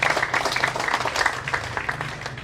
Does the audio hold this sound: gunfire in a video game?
no